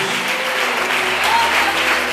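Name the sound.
congregation applauding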